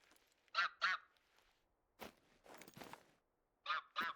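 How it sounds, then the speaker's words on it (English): Several honking ground bird calls in short pairs, with a few rougher squawks between them, fairly faint against a quiet background, in the video game theHunter: Call of the Wild. "what I'm assuming are some ground birds. And I don't know if it's a grouse."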